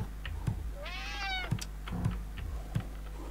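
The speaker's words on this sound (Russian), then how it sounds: "Пугаем кошку." A cat in Friday the 13th: Killer Puzzle gives one startled, rising meow over a steady ticking and low hum, with a few sharp clicks before and after.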